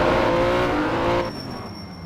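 Race cars in a championship race, about four running close together, roar past loudly with dense engine noise that drops sharply after a second or so as they pull away.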